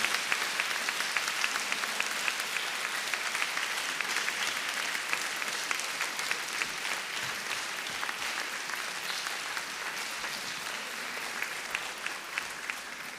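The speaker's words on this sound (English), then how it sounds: "give a warm applause to IFLA's team" Sustained applause from a large audience at the IFLA World Library and Information Congress, steady crowded clapping continuing evenly for over ten seconds with a few sharper claps standing out.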